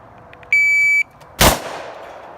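At a shooting range, a shot timer gives one steady electronic beep, and a single loud, sharp gunshot cracks about a second later, then fades into a short echoing tail.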